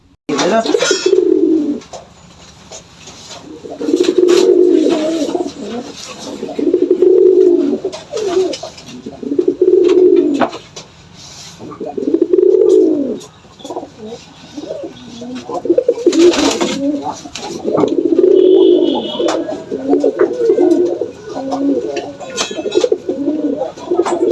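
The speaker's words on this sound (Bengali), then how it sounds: "আবার একটা দেশি গোল্লা কবুতর মারাত্মক ডাকাটাকি করা শুরু করছে, দেখতে থাকেন।" A native Bangladeshi Golla pigeon, a male, coos loudly in a pigeon loft, repeating rolling coos in steady bursts through the whole stretch, close to the microphone, with faint background noise.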